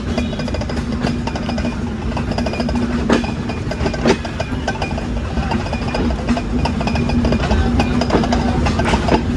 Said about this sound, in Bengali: আমরা বেরিয়ে যাচ্ছি নোয়াপাড়া রেলওয়ে স্টেশন থেকে